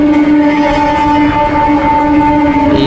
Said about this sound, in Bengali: এই যে মালগাড়ি, এগুলো হচ্ছে ডিজেল আর পেট্রোলের ট্যাঙ্ক।